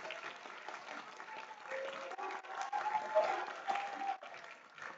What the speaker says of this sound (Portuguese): Peço uma salva de palmas para todos os nossos jurados.